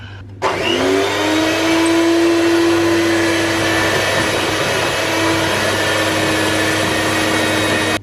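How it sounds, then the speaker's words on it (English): An electric hand mixer whisks red velvet cake batter at medium speed, a steady loud motor whir with a constant hum that runs unbroken for several seconds after a sudden start. "we're going to whisk this on medium speed for 1 minute"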